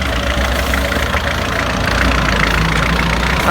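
A heavy truck engine idles steadily with a low, rumbling knock, close by and continuous, with no voices, beside a farm field during straw harvesting.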